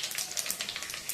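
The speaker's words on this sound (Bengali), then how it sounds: "এবার তেলটা গরম হয়েছে, তেলের মধ্যে আমি পাঁচফোড়নটা দিয়ে দেবো আর একটা শুকনো লঙ্কা দেবো।" Panch phoron spices with a dried red chilli dropped into hot oil, a brief bright crackling sizzle, close and steady with no voices.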